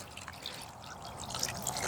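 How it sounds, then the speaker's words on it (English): A small POPOSOAP solar-powered water fountain bubbles and trickles quietly nearby, a soft, uneven gurgle of dripping water that grows slightly toward the end. "Makes just like a little bubbling noise."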